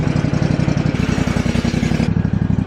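A petrol lawn mower engine running loud and close in a steady, rapid chugging rhythm, with mechanical clatter throughout and no voices.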